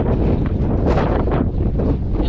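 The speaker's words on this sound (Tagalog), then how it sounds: "Kasi ang lakas ng hangin dito" Strong gusts buffet the microphone along a roadside, a dense continuous roar with slight surges and no pauses.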